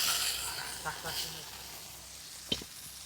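Fish fry in a pan, a soft continuous sizzle with a few brief stirring clicks and a sharper hiss spike, fairly quiet and heard close up.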